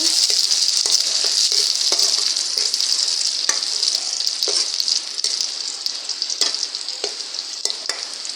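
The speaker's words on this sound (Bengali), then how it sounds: "কয়টা শুকনো মরিচও দিয়ে দিব, ভালো করে তেলে নেব" Dried red chillies fry in hot oil, a loud, dense, continuous sizzle close by with scattered stirring clicks and pops, no talking.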